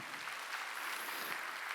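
A church congregation applauding during a Korean Sunday worship service, a brief continuous wash of many hands clapping together at even loudness.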